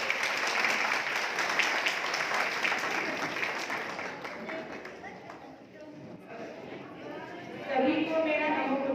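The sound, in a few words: audience applause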